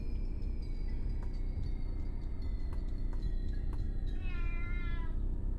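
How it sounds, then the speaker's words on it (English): A cat meows several times in the video game SHOGO Mobile Armor Division, thin repeated cries over a constant loud low drone, with a longer wavering meow near the end. "I hear the cat."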